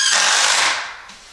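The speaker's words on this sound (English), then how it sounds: "just drill these together" A power drill whirs briefly and loudly while driving boards together for budget workshop shelving, a short high buzzing burst that winds down and fades within about a second.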